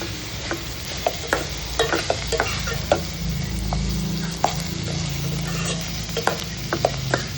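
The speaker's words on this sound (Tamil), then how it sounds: "நல்லா இந்த மாதிரி ஸ்டேஜில் நல்லா வதக்கி விட்டுக்கணும்." Onions sizzle steadily in hot oil while a spatula scrapes and taps the pan at irregular intervals, close and clear, as they are sautéed for a pepper chicken gravy, with no talking.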